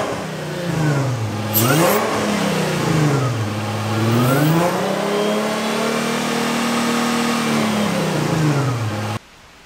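A Nissan 350Z engine with a Stillen supercharger kit revs up and down several times in rising and falling sweeps, then holds a steady higher whine; close and loud, no talking.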